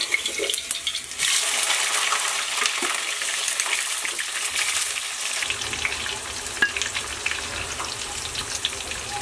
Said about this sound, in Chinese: 咱们现在把那个板栗煎一下